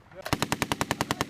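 Machine gun firing on a Marines range, a rapid burst of about a dozen evenly spaced, loud, close shots after a brief quiet lead-in.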